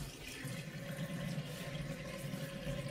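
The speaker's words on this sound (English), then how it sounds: "Wet my face a little bit." Running water from a tap gives a steady, close hiss and gurgle as a man wets his face at a sink before shaving.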